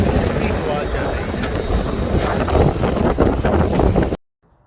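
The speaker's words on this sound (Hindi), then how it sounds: "बार्सिलोना में इस वक्त बहुत ही तेज़ हवा चल रही" Strong wind in Barcelona, a steady roaring rush buffeting the microphone at close range for about four seconds before cutting off abruptly.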